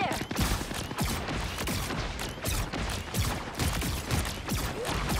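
Rapid, sustained gunfire from Marvel Rivals, loud dense volleys of shots crackling continuously in close succession for several seconds.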